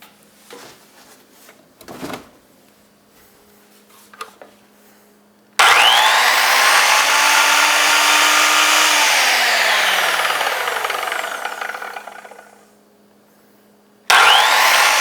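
A SkilSaw Sawsquatch 10 1/4 inch circular saw rips through wood in one loud, sustained cut of about eight seconds. The motor whine drops as the blade loads up, then winds down before a second start. Quieter bench handling comes before it.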